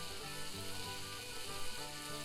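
Steak sears in a hot pan with a soft, continuous sizzle and faint crackle, steady and alone without voices.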